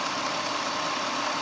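A car engine idling after an EGR system repair, a steady, even rumble with no talking.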